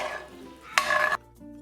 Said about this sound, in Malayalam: ഇതിലേക്ക് ഈ എടുത്തു വെച്ചിരിക്കുന്ന ശർക്കരപ്പാനി ഒഴിച്ച് ഒന്ന് ഇളക്കി കൊടുക്കാം.